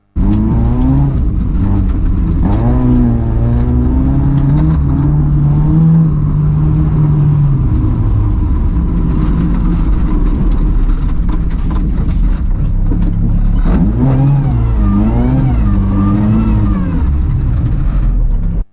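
Rally car from an Estonian amateur rally series (Rahvaralli) driving hard, its engine revving up and down continuously and loud throughout, with rising and falling pitch sweeps as it accelerates, brakes and shifts.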